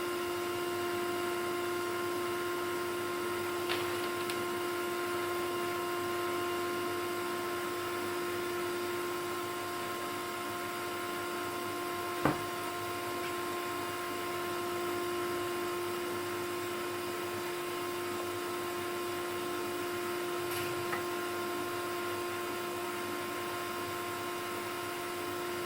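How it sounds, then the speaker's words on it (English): A vacuum cleaner hoovers soot off the sandstone hearth around a wood-burning stove, running as a loud, constant whine with a steady hum and occasional brief clicks and knocks from the nozzle. "I'm just going to hoover it off here."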